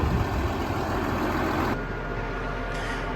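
A tractor engine runs at a steady low rumble while working a roller crimper through corn stubble, heard from close by in the cab, with a high whine that cuts off partway through.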